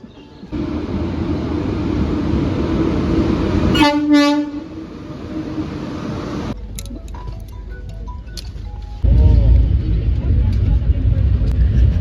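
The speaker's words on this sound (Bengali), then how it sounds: "আর 2 মিনিট বাকি, আমার ট্রেনটা ঢুকবে।" A train rumbles in, a horn blasts twice, then carriages clatter and screech along the rails, with talking and station noise around.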